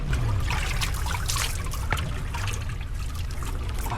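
Flowing water trickles and splashes steadily nearby, a continuous bright babbling stream with no one talking over it.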